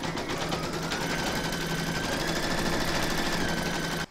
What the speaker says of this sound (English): load your file for the head into your machine, and then stitch round number 1 to give you your placement outline for the batting